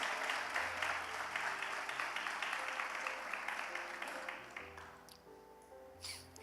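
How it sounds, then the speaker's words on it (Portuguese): A church congregation applauds in a quiet, rhythmic patter of many hands with a low musical tone beneath, the clapping thinning and fading toward the end. "Aplauda Jesus porque Ele é muito bom"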